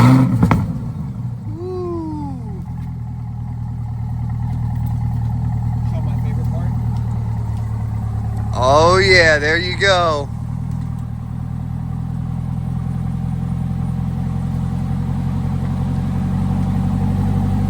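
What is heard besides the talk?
stock Chevrolet Corvette C8 exhaust revving and idling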